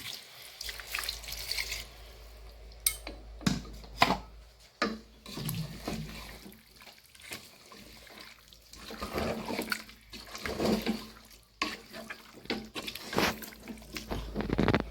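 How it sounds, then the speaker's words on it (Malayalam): Water runs and splashes in uneven bursts as it is poured into chicken curry cooking in a pressure cooker, a close, intermittent liquid pouring sound with short pauses between pours. "ഇതിലേക്ക് ചിക്കൻ വേകാൻ ആവശ്യത്തിനുള്ള വെള്ളം"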